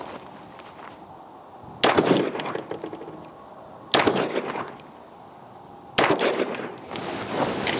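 Three sharp, loud reports from a Fowler Vanta 9 rifle ring out at a steady interval of about two seconds, each with a short echoing tail over faint outdoor background noise.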